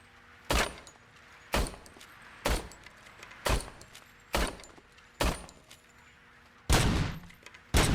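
Gunfire in the video game Robocop: Rogue City: about eight single shots at roughly one-second intervals, each a sharp, loud crack with a short tail, and the last shots come closer together.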